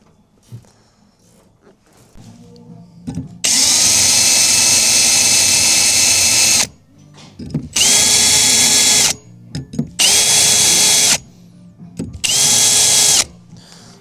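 A power drill with a 5.5mm bit drilling metal on a Toyota N70 Hilux whines loudly in several bursts, one long run followed by three shorter ones, each starting and stopping abruptly with a steady high-pitched motor tone.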